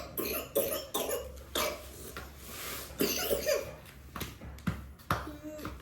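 A child with a viral cough coughing repeatedly, a series of close, harsh bursts in irregular rhythm, with a little indistinct household sound between them.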